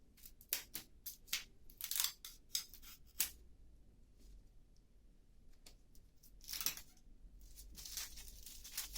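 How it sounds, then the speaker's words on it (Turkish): Adhesive tape being peeled and torn off a taped-up door indoors, a series of sharp crackling rips in quick bursts with quieter gaps, fairly close and with no talking. "Ya ben bu bantı söktüm."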